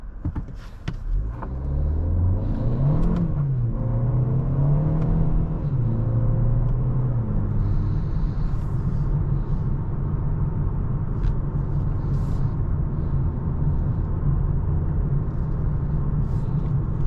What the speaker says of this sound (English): Really nice drive and good acceleration in this turbocharged 4-cylinder.